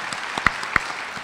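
An audience at a school district awards event applauds a high school jazz ensemble and its director, a short burst of diffuse clapping with a few sharper individual claps.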